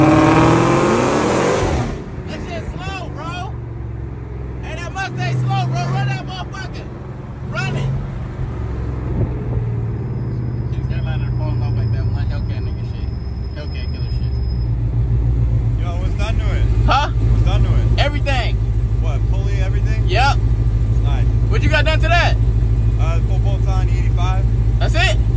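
Ford Mustang 5.0 engine droning and revving at length, a loud steady low rumble with rising pulls, while several people talk and shout over it close by.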